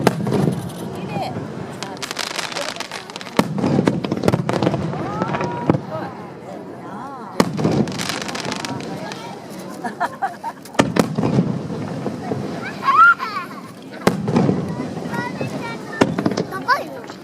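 Fireworks burst over the sea at a summer festival in Yurihama, several booming and crackling explosions spaced a few seconds apart, heard from a distance under near, steady chatter from onlookers.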